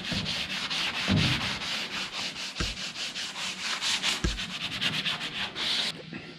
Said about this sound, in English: Okay, so it's had a light sand.